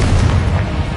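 Confringo blasting spell going off in the Hogwarts Legacy video game, a dense low booming blast that fills the short moment loudly and steadily with no clear gaps.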